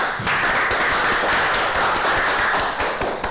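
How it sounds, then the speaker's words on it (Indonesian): Students in a high school classroom clap for a presenting group, a brisk, fairly close patter of many hands that carries on steadily before tapering near the end. "tepuk tangan ya untuk kelompok Ahwat"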